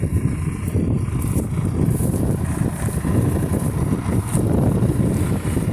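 A BDP 3200 disc harrow works a field, giving a steady, loud broadband rumble and rattle of discs and tractor drive that runs unbroken throughout, with some wind buffeting.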